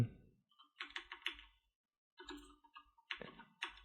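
Python code is typed on a computer keyboard in short bursts of quick, close key clicks, separated by brief pauses.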